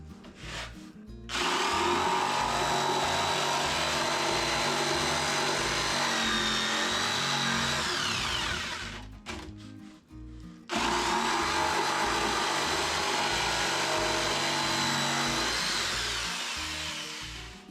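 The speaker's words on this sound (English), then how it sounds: "I'm going to cut this with the jigsaw." A jigsaw cuts a wooden workbench shelf in two long, steady, loud runs of buzzing, rasping blade noise, close by, with a brief stop between the cuts.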